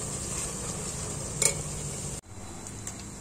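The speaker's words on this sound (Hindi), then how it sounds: "इसमें मैंने 3-4 प्याज को बारीक चॉपर में चॉप कर तेल में डाल दिया था।" Finely chopped onions frying in oil in a pan with a steady close sizzle and occasional stirring clinks, then the sizzle suddenly drops away before resuming more quietly.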